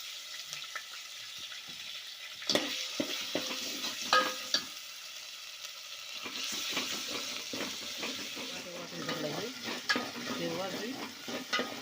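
Green masala and coconut are stirred and fried in a pan of oil for a Marathi chicken curry with black masala, giving a close sizzle and repeated scraping strokes with a spoon, louder toward the end, with no voices.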